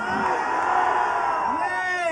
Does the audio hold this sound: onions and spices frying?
no